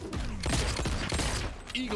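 Rapid bursts of gunfire in Mortal Kombat 1 pop in dense volleys amid game effects, with tournament commentators talking over it.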